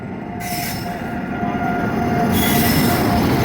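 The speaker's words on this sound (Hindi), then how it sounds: "ये लोकोमोटिव है, देख सकते हैं आप।" The UP Sampark Kranti Express at a railway platform, its wheels squealing and carriages rumbling past loud and close in a continuous grinding metallic wash, with no talk.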